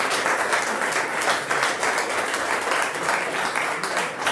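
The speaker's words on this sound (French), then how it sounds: "je pense que ça mérite énormément d'applaudissements" Dense applause from a large crowd, steady and sustained, filling the space without letting up.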